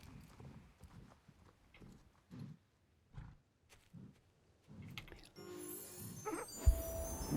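Horse hooves in Star Stable Online clop in a steady walking rhythm of soft, muffled thuds, spaced evenly, before a louder burst of game sound at the end.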